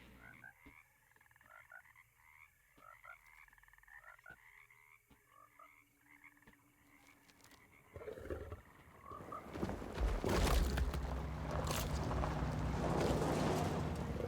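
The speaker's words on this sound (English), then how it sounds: "Frog." Frogs croak in Alone in the Dark, a rapid run of rhythmic, faint croaks that gives way to louder rumbling ambience and a burst of noise in the second half.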